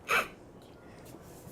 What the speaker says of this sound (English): A bit of a sneeze there